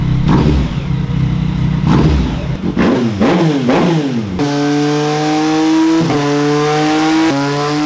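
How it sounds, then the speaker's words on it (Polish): Motorcycle engine on a tuning setup revs up in several sharp throttle blips, then holds a steady high-revving drone with brief dips, loud and close with no talk. "ja otwieram manetę i tam, tak jak się wkręca na obroty i otwiera przepustnicę"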